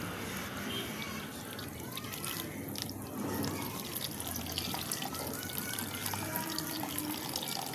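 Water runs and trickles steadily into a cooking pot on the stove, a continuous close pouring and dribbling sound with no talk.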